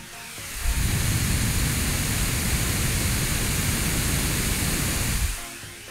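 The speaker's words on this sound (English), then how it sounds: "That was the fans at full fan speed" Cooling fans of a Lenovo Legion Go handheld running at full speed, a steady broadband whoosh that rises, holds evenly for about five seconds near the mic, then falls away.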